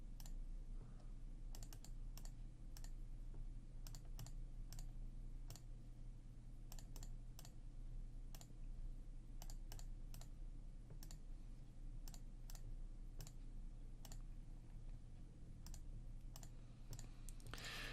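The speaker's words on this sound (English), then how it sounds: "And just get this entire thing typed in." Quiet, irregular calculator key clicks tapped one at a time over a steady low hum, with no voices.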